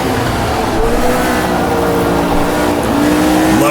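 Formula 1 race cars in the rFactor 1979 mod, trailing one of the Renaults at the 1978 Austrian Grand Prix, with engines screaming loud and close, pitch rising through gears and dropping with a shift.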